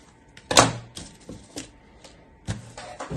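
Scissors cut through a paper sewing pattern, giving one loud crisp snip followed by a few lighter clicks and paper rustles, close up and without speech.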